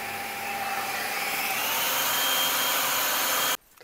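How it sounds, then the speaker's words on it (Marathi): A food processor grinds a besan flour mixture for besan ladoo with a loud, steady motor whir that runs unbroken for several seconds and then cuts off abruptly. "आता आपलं मस्त आता फूड प्रोसेसरमधून फिरवून घ्यायचं"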